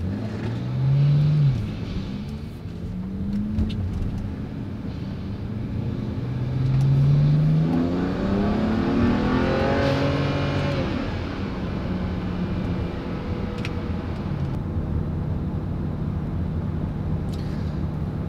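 A BMW 335i pulls hard under turbo boost, its engine note climbing in long sweeps through several gear changes, heard steadily from inside the car with no talking.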